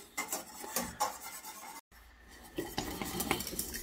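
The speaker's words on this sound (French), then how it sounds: "Voilà, ça n'arrête pas de mélanger." A utensil stirs cream in a saucepan on the stove with continuous scraping and knocking against the pan, close up, with a brief silent gap midway.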